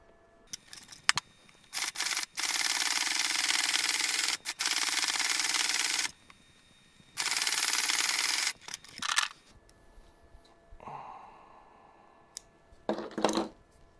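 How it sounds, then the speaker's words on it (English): Sewing machine stitching the bottom of a fabric face mask, in close bursts of fast, steady buzzing separated by pauses, followed by quieter handling noises. "So now we're going to go sew the top and bottom."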